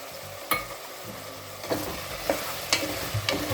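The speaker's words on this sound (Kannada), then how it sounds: "ಸ್ವಲ್ಪ ಚೆನ್ನಾಗಿ ಮಿಕ್ಸ್ ಮಾಡ್ಕೊಳ್ಳಿ." A spoon scrapes and knocks in a pan as freshly ground clove, cinnamon and cardamom are stirred into green chicken pulao, with a few sharp clinks over a soft sizzling bed, close and without talk.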